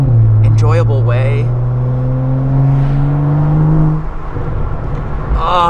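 A BMW 135i engine with a loud, aggressive aftermarket race catback exhaust note drones and rises nearby, with a voice speaking over it at the start and end.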